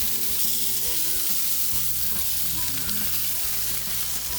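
Korean-style chicken wings sizzle on the upper rack of a gas grill with all burners on full, a steady, dense crackling hiss that continues without pause.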